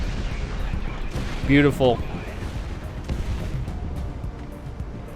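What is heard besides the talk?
aircraft gun and missiles firing in Project Wingman video game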